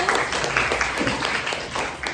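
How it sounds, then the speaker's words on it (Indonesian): Students in a classroom applaud group 1 at a citizenship project session on human rights, a brief burst of close, steady clapping with a faintly regular pulse that fills the whole moment. "tepuk tangan sekali lagi untuk kelompok 1"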